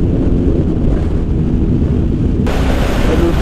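Heavy, roaring wind buffeting a motorbike helmet microphone, loud and steady throughout, with a sudden brighter hiss appearing near the end.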